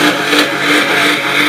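A white VR Commodore at a Motorfest burnout competition qualifying session, its engine roaring loud and close as it accelerates through a gear change, a continuous dense mechanical growl.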